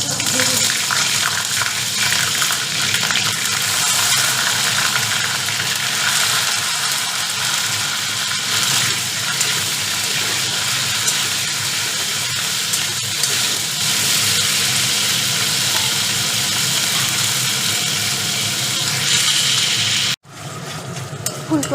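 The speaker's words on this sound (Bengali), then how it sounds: "প্রথমে ফুলকপি ভেজে দিই।" Cauliflower frying in a pan, a loud, continuous hissing sizzle that holds steady for about twenty seconds before cutting off abruptly near the end.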